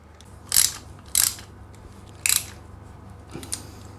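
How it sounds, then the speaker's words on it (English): Bolts being tightened on a bash plate for a 2021 KTM 390 motorcycle, heard as a few short sharp ratcheting clicks spaced apart over a low steady background hum. "So once all 6 bolts are in, you can go ahead and tighten them up."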